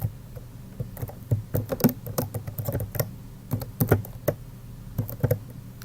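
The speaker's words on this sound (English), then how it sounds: "We'll type that in." Fingers typing on a computer keyboard at close range, bursts of irregular clicking keystrokes with short pauses between words, steady and moderately loud, with no voices.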